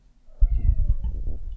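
A cat gives one short, close meow in the mobile game Battle Cats.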